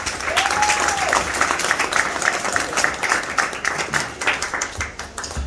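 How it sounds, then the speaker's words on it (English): An audience at a mentalism stage show applauds steadily for a volunteer called up from the crowd, a dense wash of clapping lasting throughout, with a faint voice or tone briefly rising above it early on. "Everyone give him a round of applause."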